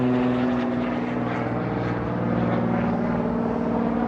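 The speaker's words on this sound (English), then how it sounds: "We saw an airplane taking off, and now there's an airplane coming in." A propeller airplane passes overhead on approach to land near an airport, a steady droning engine hum with a strong low tone that swells slightly midway, heard outdoors on calm water.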